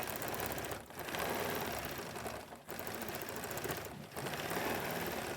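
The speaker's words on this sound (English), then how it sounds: "Just stitch across there." A sewing machine stitches across a quilt with Woodlands thread, running in a fast, continuous mechanical whir close by, interrupted by a few brief dips as it slows or stops, with no speech.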